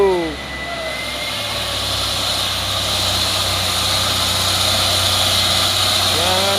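A heavily loaded Hino trailer truck labours up a steep hill, its engine droning loud and steady with a deep low rumble, while voices shout over it.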